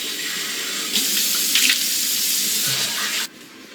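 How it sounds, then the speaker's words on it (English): Tap water runs steadily into a sink for face washing with hot water, a close, continuous hiss that grows louder for a moment as hands splash under the stream before it is cut off near the end. "Then I always just wash my face up with hot water again."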